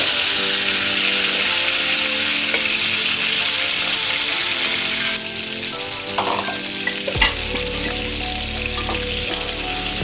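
Fish deep-frying in hot oil gives a steady, dense sizzle throughout, loud and close, with a stirring clatter near the end and no voices.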